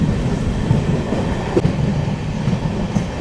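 The Kolkata Sairang Express rolls through ghat section hills at sunset, led by its banker locomotive, giving a loud, continuous rumble of wheels with a faint rhythmic clatter and occasional squeaks.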